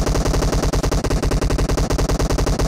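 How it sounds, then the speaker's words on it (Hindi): Rapid continuous gunfire from a shooting game on a Samsung phone: fast, evenly spaced automatic shots with no pauses, loud and close, with no talk over it. "लगातार फायरिंग साउंड आ रहे थे,"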